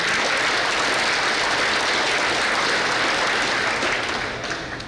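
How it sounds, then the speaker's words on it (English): A crowd at a parish town hall meeting in Bayou Dularge, Terrebonne Parish, applauds the people who cooked the shrimp jambalaya, a thick, steady wash of clapping that thins out toward the end. "Give them a round of applause if y'all don't mind."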